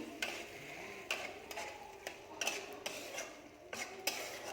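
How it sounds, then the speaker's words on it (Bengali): Chow mein with soy sauce being stirred in a pan, a utensil scraping and clinking against the metal in a steady series of light taps and strokes over a soft background hiss. "তারপরে দিয়ে দিচ্ছি সোয়া সস অল্প করে দিয়ে একটু নেড়ে নিচ্ছি"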